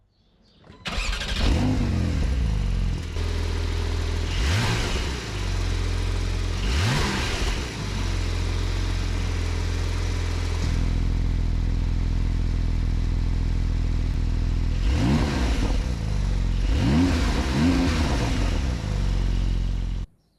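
Porsche 911 Turbo S (992.1) engine starting up and idling loudly close by, broken by several sharp rev blips that flare and fall back over a steady low drone, with no voices.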